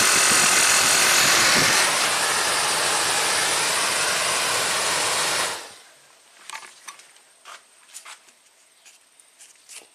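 A car's HVAC blower motor with a seizing, overheating bearing, wired to draw about 17 amps, spins with a loud, steady whir and rasp for about five and a half seconds, then cuts off, leaving only faint clicks and rattles.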